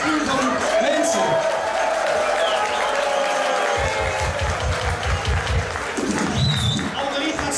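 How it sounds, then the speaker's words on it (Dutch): Audience applause with cheering at a winter party, a dense crowd clapping loudly throughout, with a rhythmic thumping beat from about four seconds on and voices shouting over it. "ik wil een groot applaus hebben voor deze onwijs gave crew van mensen."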